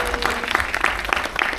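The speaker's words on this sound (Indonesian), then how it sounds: "Tepuk tangan buat Bu Hadrah." Applause at an Indonesian press event for a horror film, a short burst of scattered hand clapping from a small audience with crowd murmur beneath.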